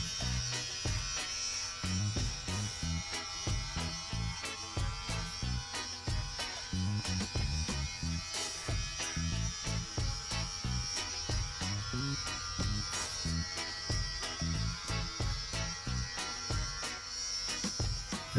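Cordless hair clippers fading a haircut, a continuous close electric buzz that pulses slightly as the blades move through the hair, with faint handling in the background.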